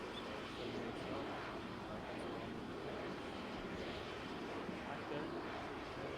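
Fighter jet engine roaring in a video game, a steady dense broadband rumble and hiss holding at an even level throughout, with no talk over it.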